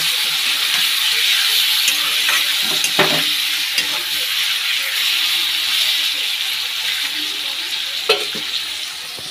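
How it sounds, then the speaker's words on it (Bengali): Meat frying in a pan with turmeric and salt, giving a loud steady sizzle and hiss throughout, broken by a few sharp clinks of stirring. "হলুদ আর নুন দিয়ে আগে মাংসটা ভালো করে ভেজে নেব।"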